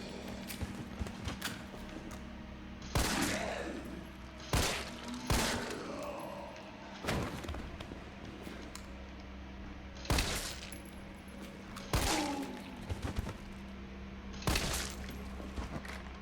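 Grenade launcher blasts in Resident Evil 3 Remake go off one after another, about eight sharp booming explosions with short decaying tails, spaced a second or two apart over a low steady hum.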